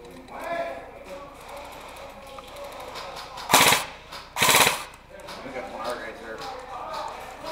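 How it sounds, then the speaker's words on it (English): Two short bursts of rapid airsoft gunfire rattle out one after the other at an outdoor airsoft event in Lawson, Missouri, over faint background chatter and movement. "I'm shooting into the other building."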